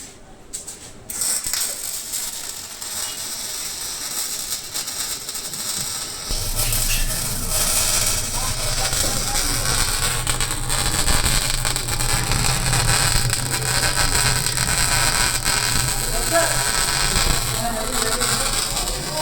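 MIG welding a cover pass, a dense continuous crackling hiss that begins a few seconds in and grows louder, holding steady and close for the rest of the stretch without talk.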